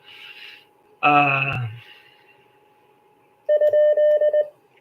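A Morse code question mark (IMI) is sent as a clean CW tone, a quick run of about six short and long beeps. A brief voice-like sound comes before it.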